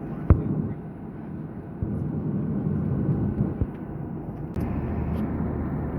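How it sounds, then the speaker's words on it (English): The cabin of an airliner flying between Dallas and Indianapolis fills with a steady, low engine and air roar. A couple of faint thumps sit under it, and the drone shifts near the end. "at least I'm on an airplane"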